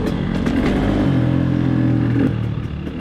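A KTM 300 two-stroke dirt bike engine revs hard and steady at close range, holding a loud, continuous drone that eases off slightly near the end.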